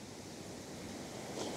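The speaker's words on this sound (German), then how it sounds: "das Meer ist ein bisschen aufgewühlter jetzt" Rough sea surf washes steadily onto the coast at Khao Lak during the low season, a continuous soft broadband rush of waves heard from some distance, with no voices.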